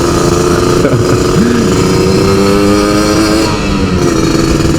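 A Yamaha RX-Z two-stroke motorcycle accelerates on the road during a touring ride, heard close and loud. The buzzing engine note climbs and shifts in pitch over steady wind rush.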